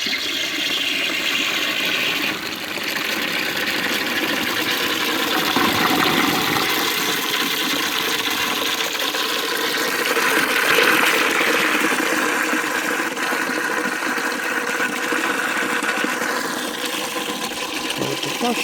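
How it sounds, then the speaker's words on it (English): A restored 1930s Claughton Bros Japkap cistern toilet flushes at full pressure with a long, loud rushing and gurgling of water that churns steadily throughout, heard close up. "There's the flush."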